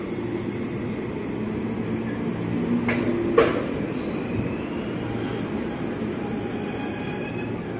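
A Nambo-line commuter train, a ten-car set, rolls through Depok station at night, giving a steady rumble of wheels on rail with a short squeal or clank in the middle, fairly close and continuous.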